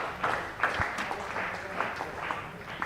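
Scattered, moderate applause from the crowd at a Kent vs. Hampshire cricket match as Kent's fielders and bowlers come off the field, a continuous patter of clapping from some distance with faint voices mixed in.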